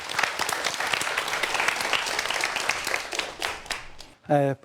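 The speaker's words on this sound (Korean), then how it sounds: "박수 부탁드리겠습니다." Audience applauds a criminology professor's lecture at a Korean public talk on forensic science, a dense steady wash of clapping that fades out near the end, followed by a brief spoken word.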